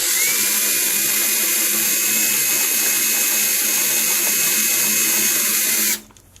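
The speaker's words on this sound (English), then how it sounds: "Right, got my hole drilled" A power drill bores a hole into a metal license plate, a loud steady high-pitched whine held close for about six seconds before cutting off abruptly, alone with no voices.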